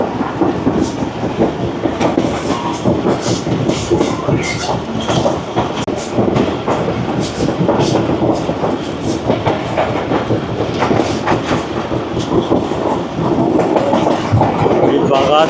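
A passenger train runs on rails between the Indo-Pak border and Hyderabad through the Thar Desert. There is a loud, steady rumble with continuous clickety-clack of the wheels, heard from inside.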